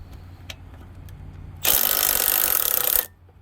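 Head bolts being removed from an MTD snow thrower engine, faint clicks and taps first, then a loud buzzing burst from a power tool for about a second and a half before it cuts off.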